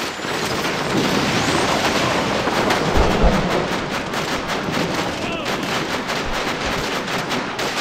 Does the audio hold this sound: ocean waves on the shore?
no